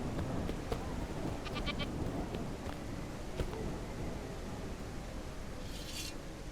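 A goat bleats in the open-world RPG Ertugrul of Ulukayin, with a couple of short, moderately distant bleats over steady wind and game ambience.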